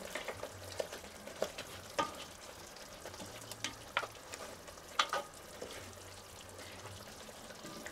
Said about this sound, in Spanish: Vamos a esperar que esto hierva unos 5 minutos